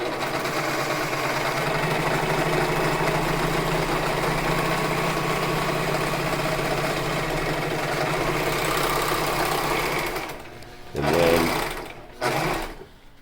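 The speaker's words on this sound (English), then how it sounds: "I happen to have a serger, which makes it simple, as it cuts it as" A serger sewing machine trims and overlocks a fabric edge for a non-fogging surgical mask, running in a steady, continuous hum for about ten seconds before stopping, followed by a couple of short bursts of stitching.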